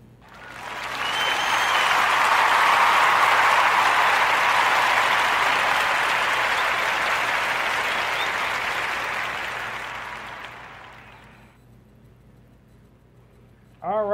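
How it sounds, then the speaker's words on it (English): A round of applause, a dense wash of many clapping hands that swells, holds steady for several seconds, then fades away, with no talk over it. "Join me into giving NetK a Warm Narrative podcast round of applause"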